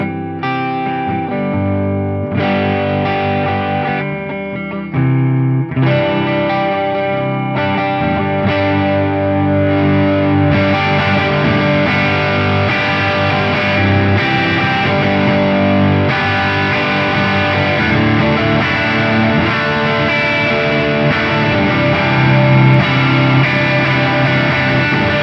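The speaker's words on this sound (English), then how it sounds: "a great sounding Les Paul straight out of the box" Distorted electric guitar from a Gibson Kirk Hammett Greeny Les Paul Standard, played as dense, loud chords and riffs with effects and a touch of chorus, continuous and up front for the whole stretch with no talking.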